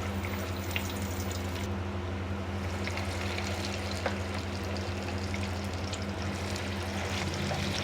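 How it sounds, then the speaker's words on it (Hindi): Moong dal pakoras sizzling in hot oil, a steady dense crackle and hiss with occasional pops, close and continuous with no voices. "हमारे पकोड़े जो है फ्राई हो रहे हैं"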